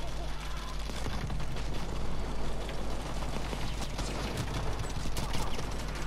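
Dense gunfire in Battlefield V, rapid overlapping shots crackling continuously at close range, with a voice talking over it.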